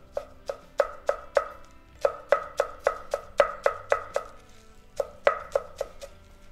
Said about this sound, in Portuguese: Vou colocar tudo junto aqui e deixar bem picadinho